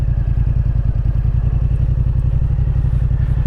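A 2024 Yamaha MT-07 motorcycle, with its clutch not fully disengaging, runs under engine braking, giving a loud, close, steady low engine throb with rapid even pulses throughout, heard with no talk.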